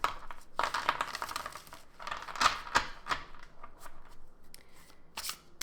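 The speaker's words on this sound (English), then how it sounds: "Let's give it a shuffle." Tarot cards printed on thick cardstock are shuffled by hand in a quiet room, producing a run of soft riffling bursts and sharp flicking snaps, close and fairly faint, with short pauses between them.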